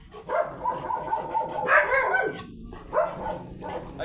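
A Golden retriever barks and yips in short, irregular bursts at moderate distance, with some whimpering, over a faint background and no clear speech.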